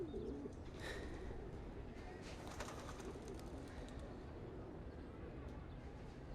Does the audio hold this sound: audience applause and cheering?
no